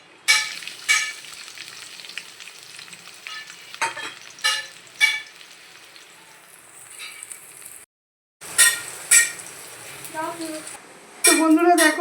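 Chopped onion and green chilli hit hot oil already tempered with white cumin seeds for a lote fish masala curry. A steady close sizzle rises in bursts with stirring and the clink of utensils, then breaks off briefly before resuming louder.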